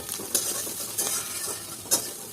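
Food sizzling in a pan while fried rice is being cooked, with steady hissing broken by a few sharp stir-and-scrape bursts of a utensil, close and fairly quiet.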